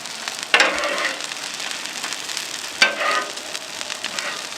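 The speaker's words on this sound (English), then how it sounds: "while those chops are searing, I'm going to give the veggies a bit of a stir," Pork chops sear in a hot pan with a continuous sizzle while vegetables are stirred, two sharp scraping stir strokes standing out over the frying.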